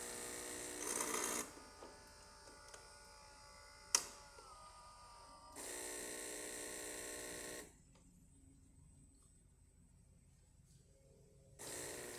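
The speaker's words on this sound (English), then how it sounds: "It's going to move into position to start the tamping procedure, and then it's going to start brewing." Saeco Xelsis automatic espresso machine brewing a test shot after a full tune-up: bursts of whirring motor and pump buzz alternate with quieter mechanical clicks and hum, close and moderately loud.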